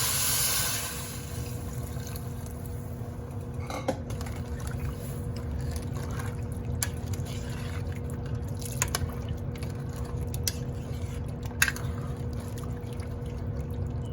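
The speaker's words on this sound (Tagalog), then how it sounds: "isunod na natin ang chicken broth guys" Homemade chicken broth, the liquid left from boiling chicken, pours into a pot of rice porridge. A steady watery wash runs throughout, close by, with a few faint clinks and drips and no voices.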